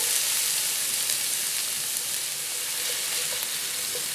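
Onions frying in a dash of olive oil in a pan, a steady close sizzle with soft crackles throughout, no talking.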